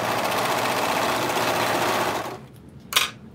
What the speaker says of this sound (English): I need to serge this here.